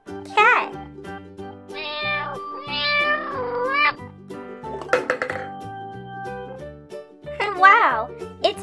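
A yellow toy cat gives several bright, synthetic electronic meows with a jingling tune behind them, loud and close, spread across the whole span with brief pauses between calls.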